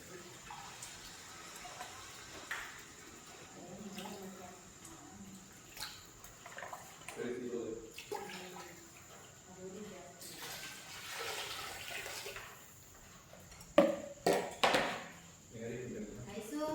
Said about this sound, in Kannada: ಸೊ 8 ಗ್ಲಾಸ್ ನೀರು ಹಾಕ್ತಾಯಿದ್ದೀನಿ